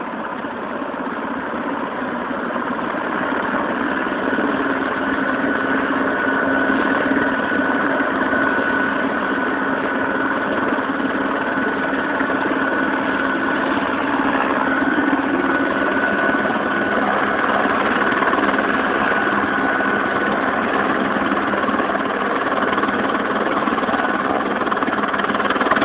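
A helicopter engine idles steadily and loudly throughout, a constant droning hum with no breaks, close to the listener and with no talking.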